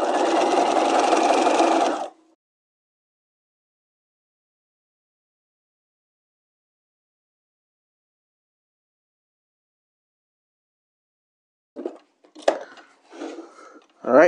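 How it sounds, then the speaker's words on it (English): Sewing machine stay stitching the necklines of bodice lining pieces, a close burst of steady whirring for about two seconds, then near silence before brief clicks and handling sounds. "we can just go right on to the next piece and continue stitching it"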